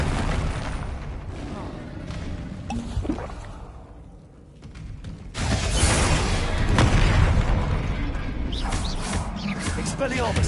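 A Confringo blasting spell from Hogwarts Legacy erupts in loud booming blasts, one after another in a noisy duel. A voice shouts spell names over the explosions.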